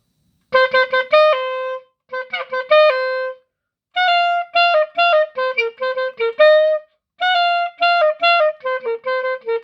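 A whole song is played on solo clarinet, reaching the altissimo register: bouncy phrases of short detached notes separated by brief pauses, with some held tones at the phrase ends, close and bright.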